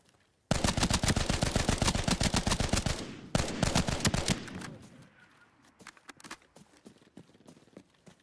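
Rapid automatic gunfire from a gun in a video game, a loud sustained burst of closely spaced shots that breaks off briefly, resumes, then tapers into scattered single shots and quieter clatter.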